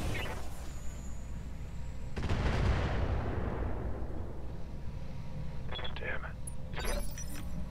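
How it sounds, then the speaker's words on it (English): Mortar artillery fire in the BattleTech mod Roguetech, one heavy blast around two seconds in, followed by a long decaying rumble and a few smaller sharp reports near the end, all over a steady game-noise bed. "let's get that mortar going again with the fast cam on this guy"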